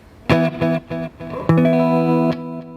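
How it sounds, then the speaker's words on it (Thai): Electric guitar runs through a Boss DD-8 digital delay pedal set to warm mode. Loud distorted notes are struck in a quick run, then a sustained chord rings with trailing repeats, close and with no talk. "อันนี้ผมเลือกที่วอร์มนะครับ นี่เสียงดีเลย์นะ"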